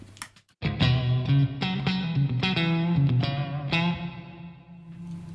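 Electric guitar through a Headrush pedalboard with heavy reverb, a string of ringing picked notes and chords that swell and trail off into a long washy tail, loud and alone.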